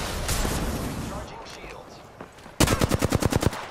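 Apex Legends gunshots: scattered distant shots at first, then a loud close burst of rapid automatic fire with about a dozen evenly spaced rounds; a voice speaks over the earlier part.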